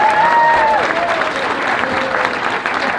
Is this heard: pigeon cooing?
no